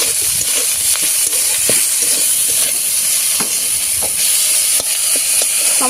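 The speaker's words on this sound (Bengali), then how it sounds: "এবার আমি নাড়িয়ে নেব" Chilli powder and salt are stirred in a cooking pan with a loud, steady sizzle and hiss, broken by repeated sharp scrapes and taps of the spoon against the pan at close range.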